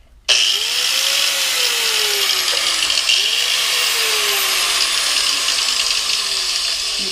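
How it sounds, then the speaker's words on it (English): An angle grinder with a cutoff wheel cuts through a Toyota 4Runner bumper, giving a loud, steady, high-pitched whine with a grinding rasp. It starts abruptly and holds near-constant for about seven seconds, and its pitch dips and recovers slightly under load. "going along here with grinder and just cutting this right off here"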